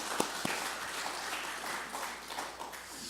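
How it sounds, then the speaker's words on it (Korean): A church congregation at a Sunday worship service in Oakland claps in thanks to the women's mission society officers, a soft, diffuse patter of many hands heard at a distance. "모든 임원들 회원들께 감사를 드리는 마음에 박수 한번 올리도록 하겠습니다"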